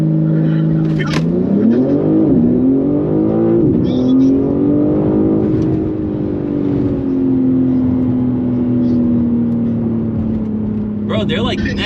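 BMW G80 M3 racing a tuned Porsche 911, heard from inside a car as a loud, steady engine drone that climbs and shifts pitch under acceleration, with brief voices over it.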